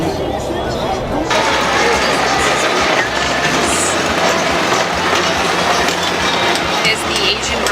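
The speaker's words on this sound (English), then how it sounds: "We're on the bullet train." Steady loud rumble and rush of a bullet train riding along the rails, with a faint rhythmic clatter and voices talking underneath.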